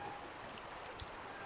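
A strong river current at Daraitan in Tanay, Rizal rushes past in a faint, steady wash of flowing water.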